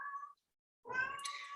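A pet cat meows indoors in the background, one short cry, a pause, then a longer, louder drawn-out meow.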